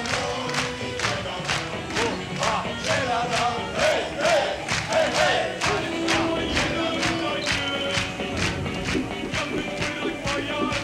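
Studio audience on a Turkish TV comedy show cheering and clapping in a steady, loud crowd roar with rhythmic clapping pulses throughout.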